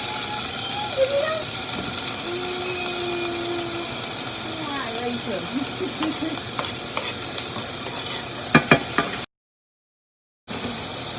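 Chopped ingredients seasoned with sazon Goya fry in a pot, hissing steadily while a spoon scrapes and clatters. A short burst of sharp knocks comes near the end, then a brief drop to silence.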